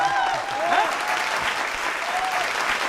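Steady applause from an audience at a political satire show, dense clapping filling the whole stretch at an even level, with a faint voice briefly audible.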